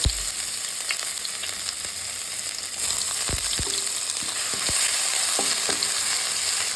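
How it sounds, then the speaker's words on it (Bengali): Ginger fries in hot oil with cumin and bay leaf, a steady close sizzle broken by a few soft taps and scrapes of a spatula. "আদাটাকে হালকা একটু ভেজে নেব"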